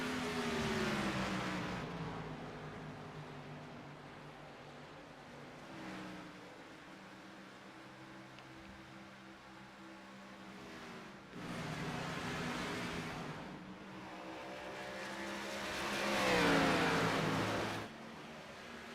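Race cars roar around the track, engines revving and whining in rising and falling sweeps as several machines pass by, with the loudest pass swelling near the end before fading.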